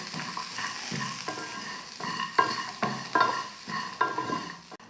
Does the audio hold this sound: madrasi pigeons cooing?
no